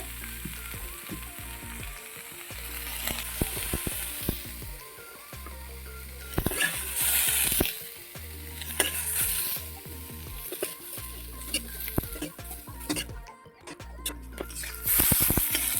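Onions frying in oil in a pan, a constant close sizzle with occasional scraping stirs and clinks, the hiss swelling at times.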